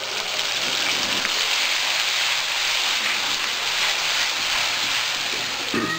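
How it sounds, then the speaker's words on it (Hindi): Onion paste frying in a pan during cooking, giving a steady, loud, close hiss of sizzling oil with no break, and no voices over it. "प्याज के पेस्ट को ट्रांसपेरेंट होने तक भूनेंगे।"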